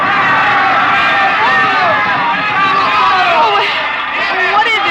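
A dense fiesta crowd cheers and yells for a papier-mâché bull, a constant close wash of mixed voices with rising shouts.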